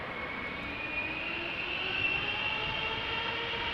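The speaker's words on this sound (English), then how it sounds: "Airbus, Boeing 777-300ER, KLM flight 591 going to Johannesburg." Steady roar of a KLM Boeing 777-300ER's jet engines at Amsterdam Schiphol Airport, holding at an even, continuous level throughout with no talk.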